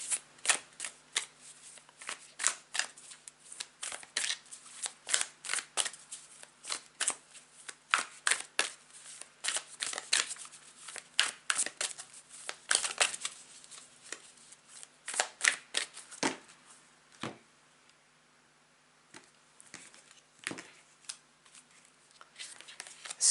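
Oracle cards being shuffled by hand, a long run of quick crisp riffling bursts, close and dry, easing into sparser taps near the end.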